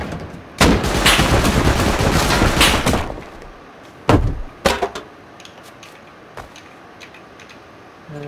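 Turret gunfire in the video game Rust, a loud sustained automatic burst lasting a couple of seconds, followed after a pause by a few sharp single shots and isolated cracks in an otherwise quiet space.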